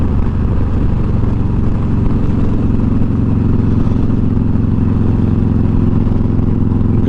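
Motorcycle cruising north along a rural highway, Route 372 in North Texas, with a loud, constant engine drone and wind roar throughout, steady and close, no talk.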